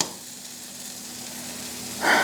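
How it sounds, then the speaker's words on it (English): A steady, soft sizzle of a cheese quesadilla frying in a hot pan, with a brief louder crackle near the end. "Let it sizzle a little bit."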